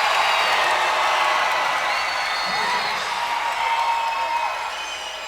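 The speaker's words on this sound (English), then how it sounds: "They're cheering so loudly for it." Dense crowd roar at a state championship semifinal tiebreaker, loud and steady throughout with whoops and scattered clapping mixed in, easing slightly near the end.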